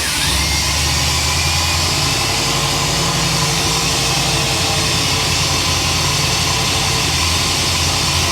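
Cab-over (COE) truck engine idling steadily and close, a continuous low rumble with broadband noise, running alone without talk.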